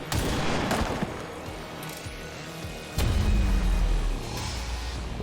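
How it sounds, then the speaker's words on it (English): Gunfire in the XCOM video game as a squad shoots at an enemy trooper: sharp cracks early on, then a heavy sustained burst with a booming low rumble that carries to the end. "let's shoot the trooper"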